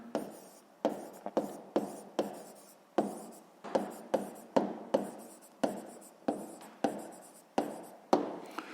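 Pen writing out a sixth-grade math solution on paper, a steady run of short scratchy strokes in quick bursts with brief pauses, close and fairly quiet, no talking.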